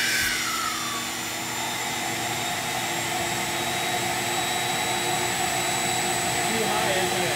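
A CM1500 insulation blowing machine runs with only the air on, giving a steady, loud, continuous roar and hiss of blowing air with a faint whine, holding at even level throughout.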